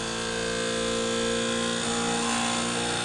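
Rotating machine spinning at about 3000 rpm gives off a loud, continuous mechanical hum with steady tonal whine and rumble that holds throughout.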